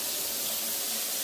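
Water sprays steadily through a Weddell Duo shower filter, a dense, continuous hiss close by, with no voices.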